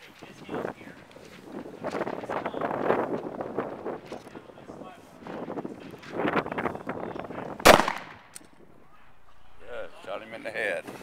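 Handgun fired at a target during a sheriff's office media day, a single loud sharp crack amid ongoing talk between people nearby, with wind noise in the background.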